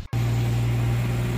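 A BMW 440i F36 coupe engine starts running after a short cut, a steady mid-pitched engine drone with a strong tonal hum, heard close and alone as the car is readied to drive out.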